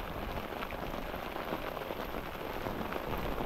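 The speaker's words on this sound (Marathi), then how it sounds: "असाच जर जोरात अजून पाऊस पडला ना 2 तास" A hard downpour drums and hisses continuously, close and loud, with a thick wash of raindrops on surfaces and no talking.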